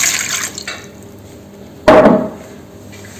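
Water splashes briefly into a metal pressure cooker holding sweet potatoes in one short pour, with a clank of the vessel before it and quiet in between.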